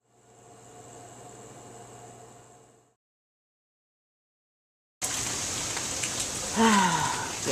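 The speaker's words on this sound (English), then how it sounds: "Yes, another rainy day." Rain falls in a steady hiss, first as a softer wash that fades out, then after a pause as a louder, close downpour, with a brief chirping sound riding over it near the end.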